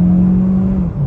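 Inside a 2023 Kia Sportage PHEV X-Line Prestige AWD during a test drive, a loud, steady engine hum with a low drone holds briefly under acceleration, then dips slightly near the end.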